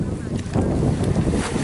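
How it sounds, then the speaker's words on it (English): Boats ferrying people out to the San Blas Islands in Panama, heard as a steady rumble of engines and water with gusty wind buffeting the microphone throughout. "all of these boats are taking people to the islands"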